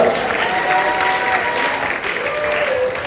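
A church congregation applauding steadily throughout, loud and dense clapping that holds without a break.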